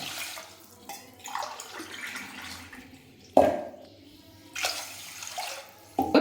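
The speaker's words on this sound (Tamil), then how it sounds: "ஒரு கப்புக்கு ரெண்டு கப்பு தண்ணி சேர்த்துக்கிறேன்" Water splashes and pours in short bursts into a metal pressure cooker for cooking rice, with a few louder gushes, recorded close up without talking.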